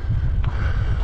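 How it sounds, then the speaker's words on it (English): Strong, freezing wind gusting at about 30 mph in eight-below-zero cold on an icy walk, heard as a steady low roaring rumble of wind buffeting the microphone. "I wanted to show how wicked the wind is."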